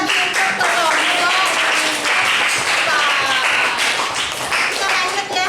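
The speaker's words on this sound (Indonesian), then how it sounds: "Tepuk tangan lagi untuk kelompok." A class applauds a student group during a lesson, loud, busy clapping and tapping that carries on steadily, with children's voices chattering over it.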